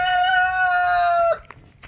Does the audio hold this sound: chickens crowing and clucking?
yes